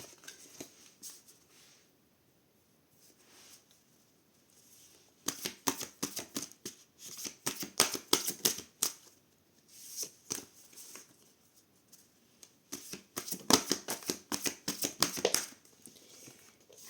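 Tarot cards shuffled by hand in bursts of rapid riffling and flicking, with quieter pauses between; close and crisp, no talking.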